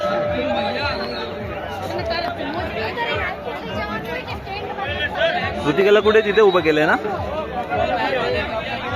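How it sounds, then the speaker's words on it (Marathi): Busy crowd chatter from a long queue of people waiting outside in hot sun on a Mumbai to Chhatrapati Sambhajinagar road trip, a steady murmur of many voices with nearby speakers talking over it. "भर उन्हात पण किती गर्दी"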